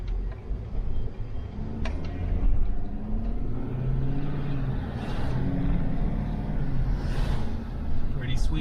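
A 2020 Ford F-350 heavy-duty pickup truck driving, with a steady low engine and road rumble throughout and brief clicks near the start.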